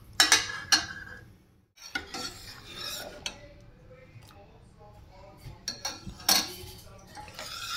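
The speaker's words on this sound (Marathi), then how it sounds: "एक 5 ते 10 मिनिटे हे आपण हलवून घेऊयात" A strained dahi vada mixture being stirred in a metal pot on a gas stove, repeated scraping and clinking of a spoon against the pot in irregular bursts, close and clear with pauses between strokes.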